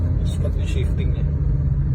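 Car engine rumbling steadily during a test drive as the transmission shifts gears, a low continuous drone with a brief dip in level, while a voice talks over it.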